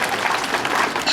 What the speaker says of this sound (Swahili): Pigia mimi makofi tafadhali.